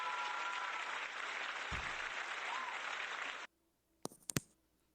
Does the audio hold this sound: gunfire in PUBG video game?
no